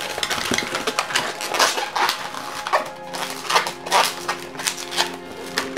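A latex modelling balloon twisted into a pinch twist while shaping an elephant, giving close, repeated rubbery squeaks and creaks in short bursts, with no one talking.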